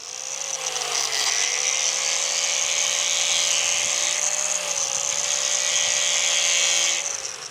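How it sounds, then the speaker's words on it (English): A brand-new 36-grit grinding disc on an angle grinder working an aluminum boat hull outdoors, a loud, continuous high whine with harsh abrasive hiss that holds steady for several seconds before spinning down. "All right, so 36 grit grinding disc. It's pretty abrasive because it's brand new."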